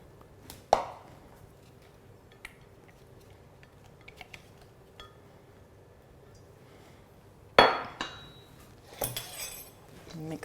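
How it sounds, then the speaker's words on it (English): Cacao powder and other ingredients being mixed in a bowl, sparse quiet scraping and a few sharp clinks of a utensil against the bowl, with mostly near-silent stretches in between. "Just going to mix everything in here."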